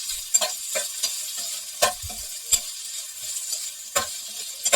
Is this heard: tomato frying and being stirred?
yes